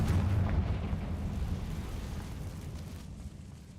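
A fire-blasting Confringo spell explodes in the game Hogwarts Legacy, giving a loud, sustained low rumbling burst that slowly fades over a few seconds, with no talk over it.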